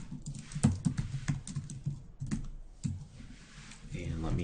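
Clicky keys on a computer keyboard are typed in quick uneven bursts of taps during Windows 10 coding work, close and fairly faint, with a voice talking in places.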